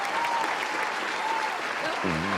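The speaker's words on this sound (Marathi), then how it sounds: "जोरदार टाळ्या होऊन जाऊ देत." An audience applauding loudly at a comedy show, dense continuous clapping that carries on throughout while a voice speaks over the end.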